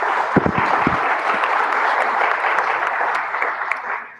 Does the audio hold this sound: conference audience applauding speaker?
yes